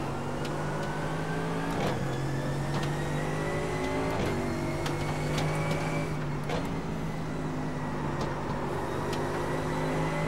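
A GT3 race car engine in iRacing, during a six-hour race at Watkins Glen, drones steadily and loudly with rising pitch as it accelerates, broken by several quick gear-shift dips before the revs climb again, with no talk over it.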